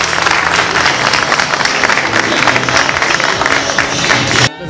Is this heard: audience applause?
yes